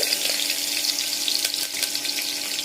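Curry leaves and whole spices (cinnamon, cloves, cardamom) crackle in hot oil for a beef curry, a steady dense sizzle with small pops close by, no voices.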